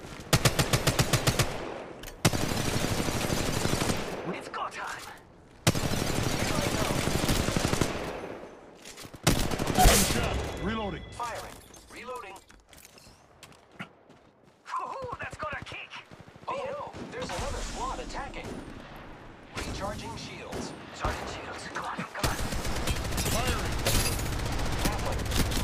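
Bursts of loud automatic weapon fire in the battle royale game Apex Legends Mobile, on Gibraltar in a ranked match, with rapid rattling volleys broken by short pauses and game sounds between them.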